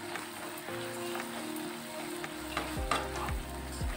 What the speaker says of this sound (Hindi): अब हम सॉस में डाल देंगे इसे और इसे मिक्स करेंगे।